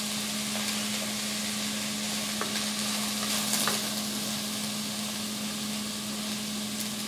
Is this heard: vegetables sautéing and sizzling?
yes